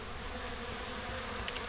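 Dense honey bee swarm buzzing steadily during a bee removal from a cut-open shingle roof in Wellington, Florida, a continuous close, even drone with no pauses and no voices.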